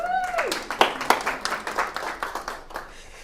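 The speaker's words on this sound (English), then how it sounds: "Can we give Will a round of applause, please?" Audience applause at a motivational speaking event, a run of distinct hand claps building after a brief voiced sound, fairly close and moderately loud, thinning out toward the end.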